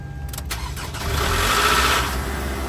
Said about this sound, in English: Listen to how my car sounds when I start it.